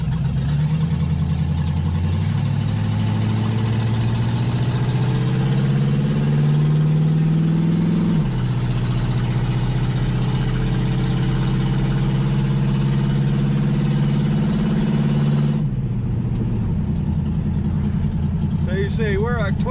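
A 1966 Dodge Dart GT engine pulls steadily in second gear at low revs, a loud, continuous droning hum with a brief dip in pitch midway and a drop in level near the end.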